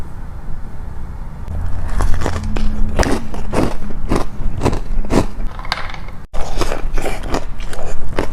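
Crunchy bites and wet chewing of a Crumbl cinnamon toast crunch cookie, heard close and loud in a steady rhythm of crisp crunches with a short break near the end.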